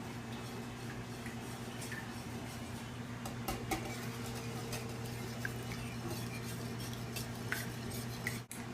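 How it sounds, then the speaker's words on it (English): Egg white and malt stirred together in a bowl for a malted chocolate pudding cake, a steady scraping and light clinking of utensil against the bowl that runs throughout, near and moderately quiet over a low background hum. "Stir these ingredients until the malt fully dissolves into the"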